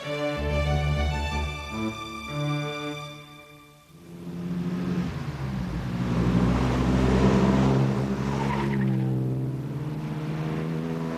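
An Aston Martin sports car's exhaust rumbles steadily, then its engine note deepens and swells into a loud, throaty roar that holds nearby.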